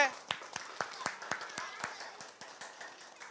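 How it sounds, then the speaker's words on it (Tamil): A group of children claps their hands quickly and somewhat unevenly at a summer story and song event, the claps slowing and thinning as the burst goes on, with voices mixed in. "வேகமா கை தட்டுங்க"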